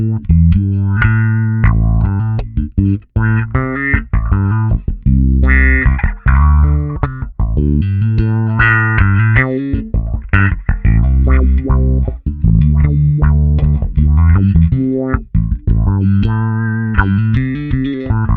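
Bass guitar played through slight distortion and then a wah-wah pedal, a gritty riff of repeated notes whose tone sweeps open and closed, loud and alone without any talk.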